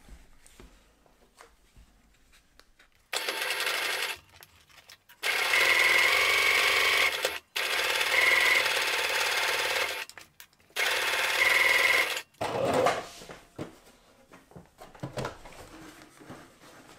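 A sewing machine stitches a seam in waxed canvas for a peg bag. It runs in several bursts of steady whirring, each a few seconds long, separated by short pauses and quiet handling.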